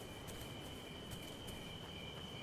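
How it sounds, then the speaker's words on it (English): Steady crickets chirping at nightfall in The Solus Project, a thin continuous high trill carrying quietly on its own under a faint ambient hush, with no voices. "I hear crickets. Nightfall."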